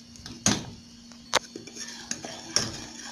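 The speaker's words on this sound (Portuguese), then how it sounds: "vou mexendo sem parar até ele começar a levantar a fervura" A spoon stirs chocolate topping in a pan for a chocolate cake, steadily scraping and striking the metal with several sharp clinks. A faint hum runs underneath the stirring.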